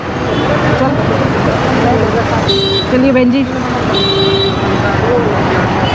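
Vehicles crawl along a narrow, crowded road near Ram Jhula in Rishikesh, engines rumbling steadily with several horn toots and beeps cutting through, while people talk close by over the traffic noise.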